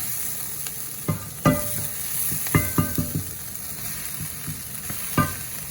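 Leftover rice, mixed yellow rice and basmati, being stir-fried with mushrooms and vegetables in a pan, giving a steady sizzle broken by scattered scraping and clanking strokes of a spoon, close by with no talk.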